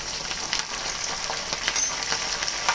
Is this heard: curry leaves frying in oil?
yes